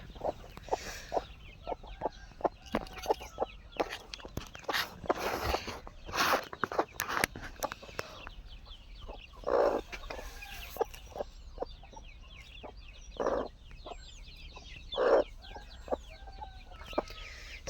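A small flock of hens clucks in short, scattered bursts close by a concrete-floored pen, with faint taps and rustles between the calls and no talk.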